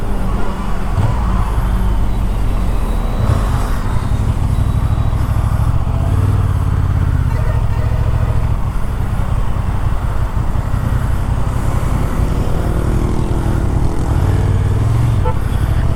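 A Honda Transalp XL 750 with a 750cc parallel-twin engine being ridden on a busy main road, its loud, steady engine drone mixed with wind and road roar throughout.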